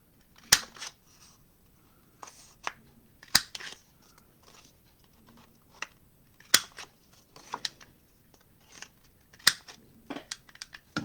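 Scissors snip the corners of a paper card in crisp, sharp clicks, spaced irregularly with quiet pauses between cuts, close and fairly faint.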